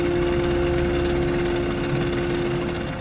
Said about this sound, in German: Über 4 Stunden arbeitet er an dem Motor, dann läuft er wieder